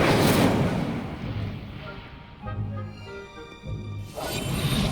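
A fire spell bursts out in a fantasy video game, a loud roaring whoosh and crackle that swells at the start, dips under quieter game tones, then surges again at the end.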